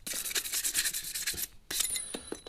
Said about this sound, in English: Give everything a little bit of a rub up